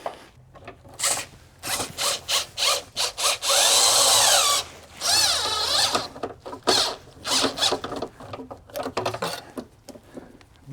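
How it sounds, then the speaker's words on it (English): Clamps tightened on the fuel filler neck of a Ford Mustang during a capless fuel filler replacement, heard as repeated short bursts of a whirring power tool, with one longer sustained run near the middle, close and fairly loud. "then we can tighten up a couple clamps"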